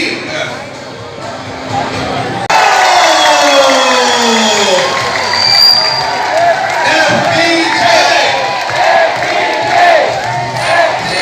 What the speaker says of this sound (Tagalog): sabay po natin siyang salubungin ng masigamong palakpakan na may kasamang hiyawan